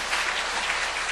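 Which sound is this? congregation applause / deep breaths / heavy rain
congregation applause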